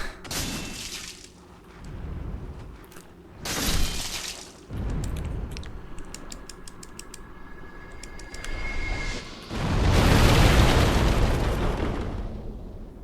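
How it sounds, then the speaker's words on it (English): An explosion in the video game Demon's Souls, set in Stonefang Tunnel, rumbles loud and broad with bursts and crackling debris, building to a long sustained blast near the end, with no talking. "Gotta make sure that we're out of the way for the explosion."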